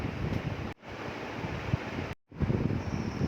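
Onion and green chillies fry in oil in a pan, giving off a steady close hiss of sizzling that cuts out twice for a moment.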